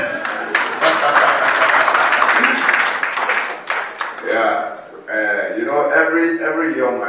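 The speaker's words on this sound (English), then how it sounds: "can we give her a round of applause?" Audience applause at the NPMC 2023 presentation, a steady wash of clapping that fills the first several seconds before fading as a voice starts speaking over the tail of it.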